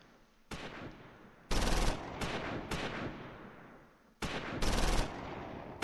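Gunfire in the Close Combat IV video game, loud sharp bursts and single shots arriving in several separate volleys, each trailing off in a decaying echo.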